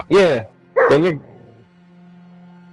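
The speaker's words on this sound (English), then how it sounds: "dog in the background? That's my dog." A standard poodle barks twice close by, sharp loud yaps with a whimpering tail, followed by a low steady hum; a voice speaks briefly.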